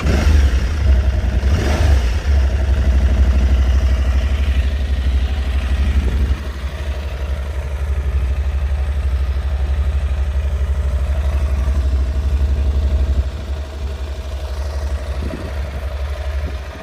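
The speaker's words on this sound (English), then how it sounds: "I'll turn the bike on real quick." An Aprilia Tuareg 660 motorcycle engine runs at a steady, loud idle close by, a low continuous rumble with small shifts in level and no talking.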